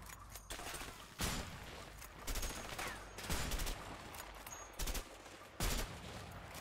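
Gunfire in the video game A Way Out: several sharp shots and short volleys come at uneven intervals over a low background din, all fairly quiet.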